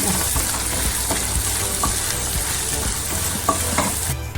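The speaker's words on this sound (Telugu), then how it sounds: "ఇది కూడా దోరగా గోల్డ్ కలర్ వచ్చేలాగా జీడిపప్పులాగా వేయించుకుంటే" Fresh coconut pieces frying to golden brown for sweet pongal, a loud, dense, continuous close sizzle with occasional soft stirring taps, no voices.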